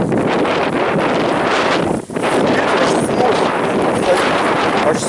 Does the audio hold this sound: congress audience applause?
no